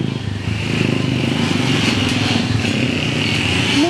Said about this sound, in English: Oh, there's motorcycles.